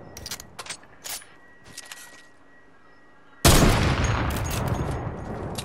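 Gunfire in the video game Fortnite: a few scattered sharp shots, then a sudden loud, sustained burst of heavy firing and noise that holds to the end, with no talk.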